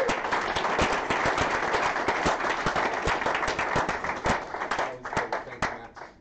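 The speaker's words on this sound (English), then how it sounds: "let's give this guy a round of applause." Conference audience applauding after a technical talk, a moderately sized crowd clapping with distinct individual claps that thin out and fade toward the end, and some voices mixed in.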